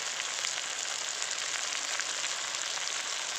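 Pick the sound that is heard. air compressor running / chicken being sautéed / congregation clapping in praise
chicken being sautéed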